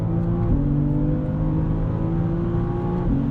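A BMW M3 CS engine revs with quick paddle shifts, the loud drone stepping abruptly at each gear change, twice in a few seconds, heard from the cabin.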